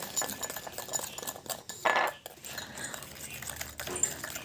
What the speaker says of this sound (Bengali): এবার কিন্তু এইগুলো সবই ভালো করে মিশিয়ে নেব